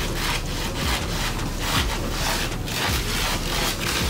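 Stiff synthetic fabric from Pretty Little Thing pants rubbing as the legs move, a steady scratchy swishing with rhythmic strokes, close and continuous with no talking.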